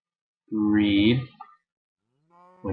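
Cows in the game Minecraft 1.6.2 give one long low moo, then a second moo starts near the end, loud and close against silence.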